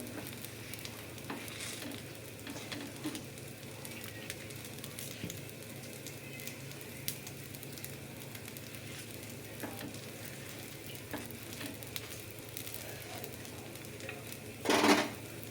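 A masala dosa fries on a hot pan as its potato filling is added, giving a steady, close sizzle throughout, with a brief clatter near the end.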